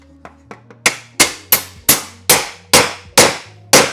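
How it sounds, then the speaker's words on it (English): Hammer blows on a rusty, bent metal plate from a Honda Fit during rust repair: a few light taps, then eight loud, evenly spaced metallic strikes with ringing decay, close by and alone. "And with the help of a hammer that we have here now,"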